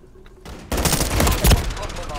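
Automatic gunfire in a first-person shooter video game, with a quiet lead-in and then a sustained burst of rapid shots, loud and close, that keeps rattling to the end with no talk.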